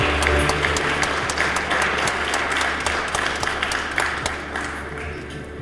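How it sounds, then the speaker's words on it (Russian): Sustained audience applause fills the hall for Olympic ambassadors Tatiana Navka and Ilya Averbukh as they present the Sochi 2014 Olympic torch on stage, steady dense clapping throughout with no speech. "поддержим их аплодисментами"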